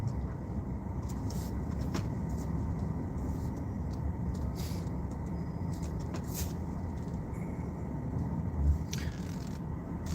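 A bus rolls past with a steady, broad engine rumble that stays loud throughout, with a brief low thump near the end and faint scattered voices in the background.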